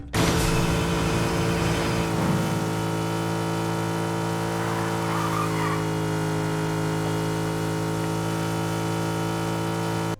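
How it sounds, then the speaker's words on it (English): A JDM car engine in the video game Fortnite drones at steady high revs with a raspy, buzzing tone, and a brief tire screech near the start. "The engine sounds kind of raspy, doesn't it?"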